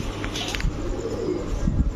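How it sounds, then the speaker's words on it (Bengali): Red Gannadino pigeons cooing nearby, soft low repeated coos over a steady background murmur, with brief higher chirps mixed in. "এই দেখছেন লাল গিয়ারের দেখেন গ্যানাডিনো লাল গিয়ারের কবুতর"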